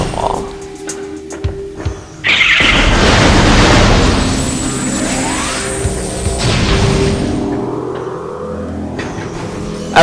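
Morph Ball Bombs in Metroid Prime go off with a loud booming burst and a long rumbling roar after a quieter stretch of clicks and tones, ending with a sharp pop.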